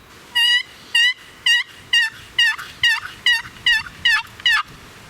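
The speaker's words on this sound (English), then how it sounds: "I'm just gonna do a couple tester calls just to see if we can get any gobbles" A hunter works a turkey call, raising about ten loud, rapid rattling gobble-like bursts in a steady rhythm in the open woods, with no talking over them.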